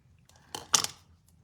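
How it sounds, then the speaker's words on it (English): Scissors snip paper for a rubber-stamping card craft, giving two quick close cuts in a row, crisp and brief, in an otherwise quiet room. "Turn it over to snip this little bit off the back."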